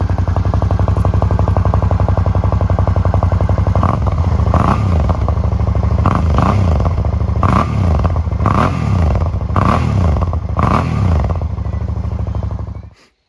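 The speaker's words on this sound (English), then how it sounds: "now that the bike's idled down, we'll give it a little rev." A Suzuki V-Strom 650 motorcycle with a modified exhaust idles with a loud, throaty rumble, then gets five or six quick revs that rise and fall, before the engine cuts off.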